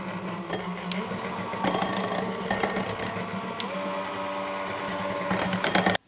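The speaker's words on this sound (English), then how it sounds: "we're gonna go ahead and go in with our hand mixer until it's nice and smooth" A hand mixer beats keto brownie batter of cocoa powder and almond flour until smooth, giving a steady, loud motor whir with a rattling beater texture that runs unbroken for about six seconds and then cuts off abruptly.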